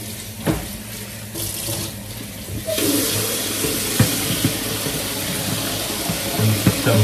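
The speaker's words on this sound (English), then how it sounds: "I'm gonna start with some hot water." Hot water gushes from a tap, starting with a brief clunk and then running steadily and loudly into a sink.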